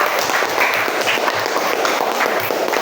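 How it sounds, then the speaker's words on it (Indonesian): A roomful of people clapping for group 2 during a class presentation session, a dense, even patter of hands sustained for a few seconds. "Beri aplaus dulu untuk kelompok 2"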